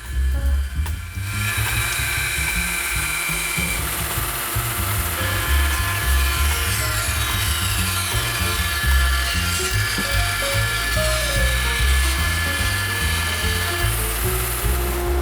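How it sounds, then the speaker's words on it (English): A bandsaw cuts tapers into wood for nightstand legs, a loud, continuous whining, rasping cut that runs steadily for about fourteen seconds after a brief start, close up with no talking. "Here, tapers are being cut on the bandsaw."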